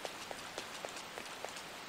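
Rain in the Persona 5 video game, a steady patter of drops with small irregular taps on a surface, soft and continuous with no one speaking.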